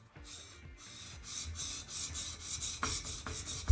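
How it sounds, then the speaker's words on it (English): A hand plane blade is ground flat on a sharpening stone, held at a slight angle across the whole stone, giving close, rhythmic rasping strokes back and forth with short pauses between passes. "just continue grinding until you can see that it's nicely ground all the way to the edge."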